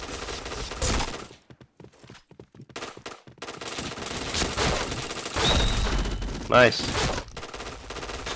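Rapid bursts of gunfire from a first-person shooter video game, intermittent volleys rising and falling over about eight seconds, with excited players talking over the shots.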